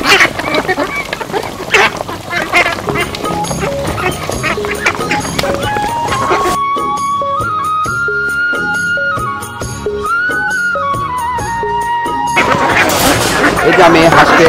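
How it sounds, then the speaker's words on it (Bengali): Ducks quacking on a farm as the flock is let out to feed, a busy stretch of overlapping calls and clatter, then a steadier middle section with a sustained tone before the noisy activity returns. "এই যে হাঁসগুলোকে ছেড়ে দিলাম।"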